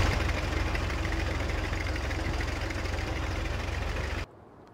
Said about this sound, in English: Our new tractor!